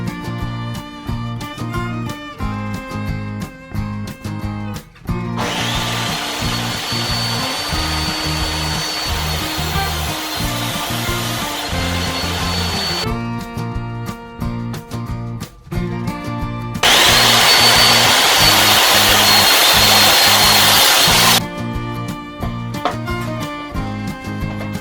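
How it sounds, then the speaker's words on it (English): A power saw cuts a wooden board to size and puts bevels on its edges. Two long loud bursts of high whining blade noise are separated by quieter stretches where a steady motor hum runs behind, and no voices are heard. "all I have to do is cut it down to size, and then I'm going to put a 30-degree bevel on each side"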